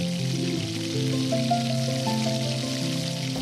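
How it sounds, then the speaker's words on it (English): Turnip turnover frying in hot oil, a steady close sizzle with a sustained tonal hum running underneath throughout, no voices. "we're gonna go ahead and drop it in our hot oil, and we're gonna enjoy the smell it makes as it starts to fry"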